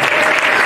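A church congregation applauds at a Sunday family prayer service, steady dense clapping filling the whole moment with no pause.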